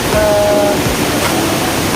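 A waterfall in Pinrang, South Sulawesi, gives a loud, steady broadband rush of falling water that continues unbroken throughout.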